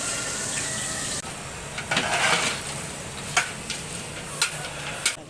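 Tyson country chicken simmering in its own juices in a pot for a festival sukka: a steady bubbling sizzle with occasional sharp stirring clinks against the metal, close and fairly loud.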